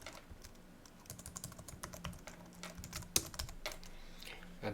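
Keys clatter steadily on a computer keyboard as a new password is typed in, a quiet run of close, irregular clicks with one sharper tap partway through.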